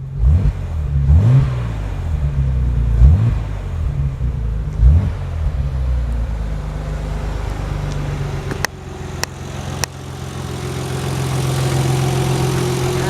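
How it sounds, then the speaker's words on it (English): A 1991 Nissan 300ZX Twin Turbo engine blips through several sharp revs close by in the first five seconds, then settles into a steady idle broken by a few brief clicks. "rev up a little bit more"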